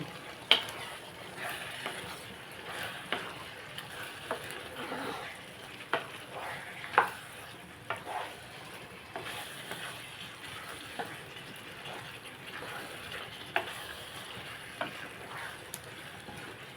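Chili powder heating in oil in a pan for tomato curry gives a steady, close sizzle, with scattered sharp clinks and scrapes of stirring throughout.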